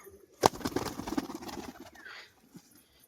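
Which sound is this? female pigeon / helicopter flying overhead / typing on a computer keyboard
female pigeon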